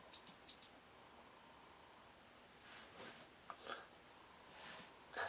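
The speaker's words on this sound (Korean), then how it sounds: "새소리가 마음을 차분하게 해주네." Small birds chirp faintly outdoors, a few short high tweets scattered over a quiet background.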